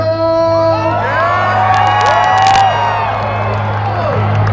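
Festival crowd at an EDM show at EDC Las Vegas, loud and dense, whooping and cheering continuously over a droning sustained tone, with a swell of shouts in the middle.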